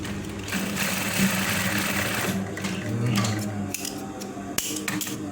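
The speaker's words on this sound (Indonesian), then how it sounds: "langsung dilipat, ambil juru tuh, langsung dijahit dari dalam" Sewing machine stitching a trouser pocket from the inside, a steady close mechanical whirr with rapid needle chatter running nearly continuously, briefly pausing and restarting with small clicks near the end.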